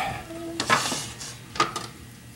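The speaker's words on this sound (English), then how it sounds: "I think I have to crack some eggs." Two sharp knocks, about a second apart, come as eggs are cracked into a pan of cooked sausage for a breakfast burrito, with faint scraping and a low sizzle behind them.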